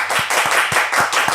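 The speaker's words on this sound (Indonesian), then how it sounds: "Tepuk tangan dong." An audience claps in a steady rhythm, with about five sharp, evenly spaced claps standing out close by over a low background murmur.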